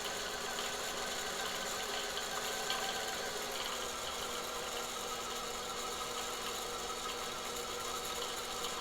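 A late-1970s sewing machine winds a bobbin with a steady mechanical whir and ratcheting rattle, running continuously at an even pace with no voices.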